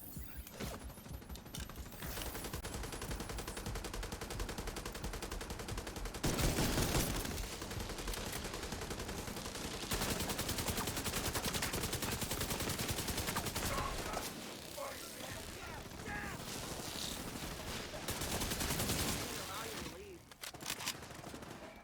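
Sustained minigun fire in the shooter game The Division 2, a loud, dense, nearly continuous roar of rapid shots with brief surges and game voices mixed in.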